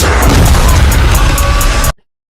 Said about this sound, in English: First off, these huge explosions